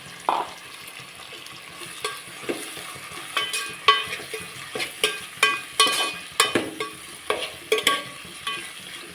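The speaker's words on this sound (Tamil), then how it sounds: "இனி க்ளீன் பண்ணி வச்ச சிக்கனையும் போட்டு நல்லா வதக்கிடலாம்" Chicken pieces sautéing with ginger and garlic in a pan of hot oil for chicken fry, a steady sizzle broken by repeated scraping stirs of a spatula at an irregular rhythm, close and fairly loud, with no talking.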